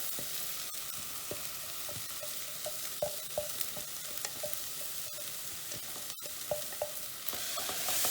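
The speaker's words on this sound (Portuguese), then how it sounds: "Você vai adicionar todo o seu recheio na panela." A constant hissing sizzle of chicken filling frying in a pan with onion, garlic and tomato paste, with occasional light clicks and scrapes from stirring, fairly quiet and close.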